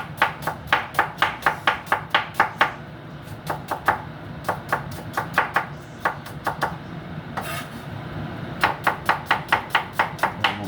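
A knife chops onion on a board for Jamaican garden seasoning, with quick, regular bursts of crisp, close strokes that pause briefly and then start again.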